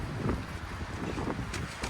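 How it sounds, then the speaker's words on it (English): Steady roaring wind buffets the microphone in strong gusts at a lakeside campsite at Mistletoe State Park, Georgia, a continuous low rumble with brief swells of louder noise. "Big gusts, getting blown around."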